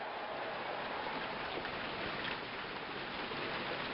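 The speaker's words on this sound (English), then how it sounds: "It's been raining here for a while." Steady, even hiss of rain from the APBA PC Baseball video game, a constant broadband downpour at low level with no talk over it.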